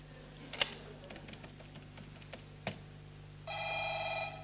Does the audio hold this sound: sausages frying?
no